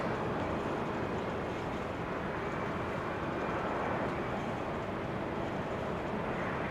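A Boeing Dreamliner passing at Amsterdam Schiphol Airport in showery weather, heard as a steady, broad roar that holds at an even level throughout, with no talk.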